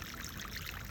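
Water from a tank and a hose pours steadily through a scale weir model, a constant faint rushing wash with no talking.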